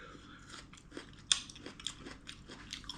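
Crunchy stir-fried prickly chayote is bitten and chewed close up, with one sharp crisp bite followed by soft, quiet crunching chews and no talking.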